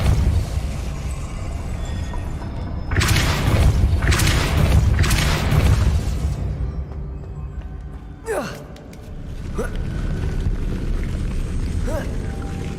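Depulso spell blasts in Hogwarts Legacy: a loud broadband burst of several rapid pulses, followed by a few sharper sweeping magical zaps, over a steady game soundscape.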